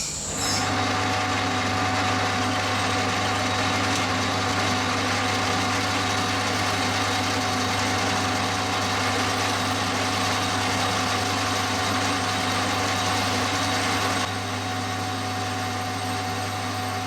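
A lathe or similar machine tool runs continuously while machining a metal clock part, a steady loud mechanical hum and whir that eases slightly near the end.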